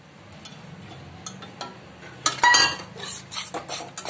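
A spoon clinks and scrapes against a pan while ground coconut is stirred into sugar syrup, with light scattered taps at first, then a louder run of clatter and scraping strokes near the end.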